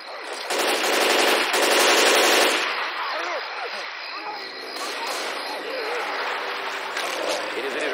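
Automatic gunfire in the video game Left 4 Dead 2 rattles loud and dense for the first couple of seconds, then gives way to quieter game noise with a voice speaking over it.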